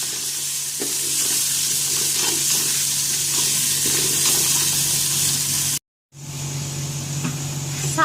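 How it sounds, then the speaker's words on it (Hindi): Beef and spices sizzle and fry steadily in a pot for a haleem, with scraping stir sounds throughout and a brief silent break near the end before the loud frying resumes. "अब मैं ऐड कर रही हूँ ये तमाम स्पाइसेस और इसको अच्छी तरह से भून लूँगी।"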